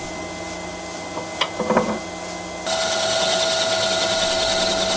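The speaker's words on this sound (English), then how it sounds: "Cleaning up the face of the workpiece. A little chamfering." A metal lathe faces and chamfers a bushing, a steady high machine whine with a few brief cutting scrapes, shifting to a brighter, louder tone midway.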